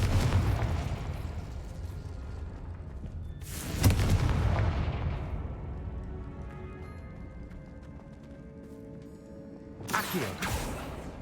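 Hogwarts Legacy spell combat where two loud Confringo fire blasts burst out several seconds apart, each a sharp explosive boom trailing off, over a dense rumbling game soundscape with no voices.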